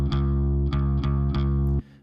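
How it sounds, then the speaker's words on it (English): An electric bass played through a bass bus with reverb processing, a few sustained low notes plucked in a slow rhythm, each ringing out with a reverb tail before stopping, heard alone with no talking. "here's the process signal with some reverb on there"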